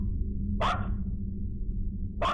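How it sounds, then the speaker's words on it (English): A dog barks once nearby, loud and sharp, then starts a second bark at the end, over a steady low hum of outdoor background noise. "The Doge is barking."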